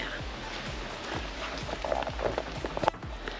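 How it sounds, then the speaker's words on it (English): Rain patters steadily on a nearby surface, with scattered drips and taps and a soft, continuous wash of noise. "it's literally raining on us"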